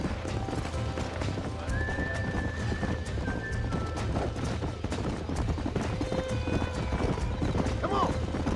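Horses in the Red Dead Redemption video game, with steady clip-clop hoofbeats and a whinny or two over a busy ambient background, moderately loud throughout.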